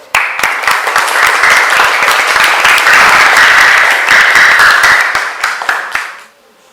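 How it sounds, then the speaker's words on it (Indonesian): A class of students applauds in a classroom: dense, loud clapping that swells quickly, holds for several seconds, then thins out and stops, with no talk over it. "Kasih aplaus."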